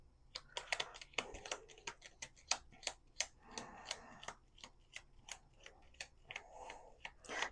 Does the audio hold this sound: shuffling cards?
yes